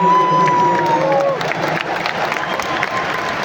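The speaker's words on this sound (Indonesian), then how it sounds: "Tepuk tangan buat semua yang ada" A large crowd at an Indonesian presidential campaign rally claps and cheers loudly and continuously, with a voice over the noise at the start.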